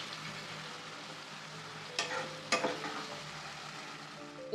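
Gongura leaves cook in oil in a pan, giving a steady close sizzle with a couple of louder stirring scrapes partway through.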